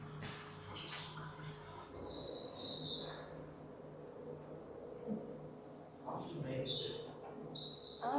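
A small bird calls in a quiet outdoor spot, giving a few short, high chirps in separate bursts over a low steady hum, with faint murmuring in the background.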